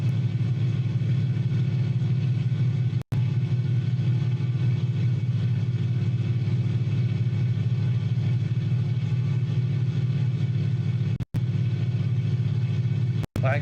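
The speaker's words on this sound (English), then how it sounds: "if you pitch this airplane too far up in the air, the engine starts dying really quickly" A Cirrus SF50 Vision Jet engine in Microsoft Flight Simulator 2020 drones steadily with a low, even rumble, broken by a few brief dropouts while the engine struggles.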